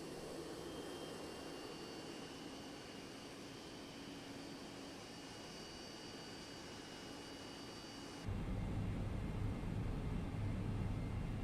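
A Boeing 777 jet engine spools up in the X-Plane 11 flight simulator, a steady airy whine and rumble that jumps abruptly to a louder, deeper roar partway through, with no voices.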